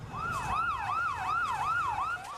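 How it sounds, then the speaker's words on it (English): Ambulance siren wailing through the streets of Beirut after a huge explosion, a rapid rising-and-falling electronic yelp repeating about six times at moderate distance, steady and alone with no talk. "Ambulances hurtled through the ruined streets."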